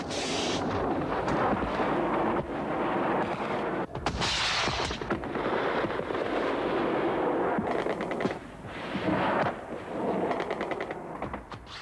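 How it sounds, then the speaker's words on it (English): Heavy explosions and rapid gunfire-like bursts from air attacks on guerrilla positions during the Soviet war in Afghanistan, loud and continuous with repeated blasts and dense rumbling throughout. "Increasingly heavy air attacks softened up the guerrillas' positions."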